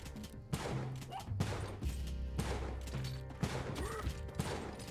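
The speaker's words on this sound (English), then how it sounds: "Just keep shooting. Don't ever, never ever stop shooting." Gunfire while shooting enemies in the video game Spelunky 2, rapid repeated shots in bursts over a steady game soundtrack, moderately loud and close, with no voice heard.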